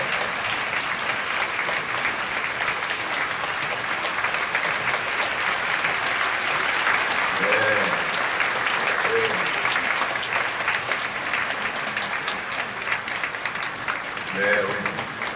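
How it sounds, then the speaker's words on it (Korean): A church congregation at a Friday night worship service claps loudly and steadily for the whole stretch, with a few voices faintly audible under the dense applause. "오늘 청고등부를 위해서 우리 박수 한번 치겠습니다."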